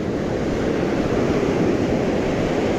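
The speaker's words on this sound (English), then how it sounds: "Here comes the water." Ocean waves wash onto the sand at Carpinteria State Beach at night, a steady, loud, close roar of surf with wind buffeting the microphone throughout.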